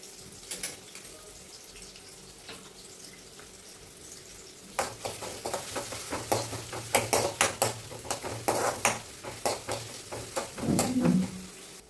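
Onions dropped into hot oil in a pan start frying partway through, a quiet start giving way to bursts of crackling sizzle and spattering that build and pulse until the end.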